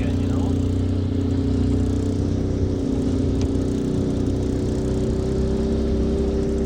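A boat outboard engine runs loud and close under slow throttle while heading upstream, a steady droning hum with a faint rise, as a voice speaks briefly over it.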